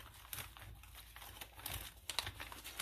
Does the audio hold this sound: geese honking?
no